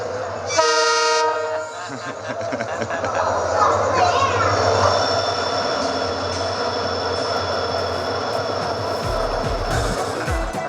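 At Bundi railway station, a train horn sounds near the start with a loud tonal blast, then busy platform noise and rumbling continue for several seconds.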